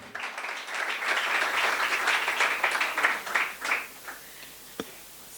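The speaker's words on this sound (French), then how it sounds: "Est-ce qu'on peut les acclamer?" A church congregation applauding a couple: sustained, dense clapping that swells, then tapers off, with a single sharp clap near the end.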